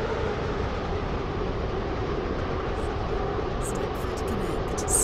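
Continuous low rumble of a train arriving at a station, steady and fairly loud, with faint high squeaks near the end as it slows.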